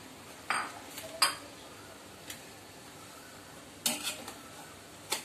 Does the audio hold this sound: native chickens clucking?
no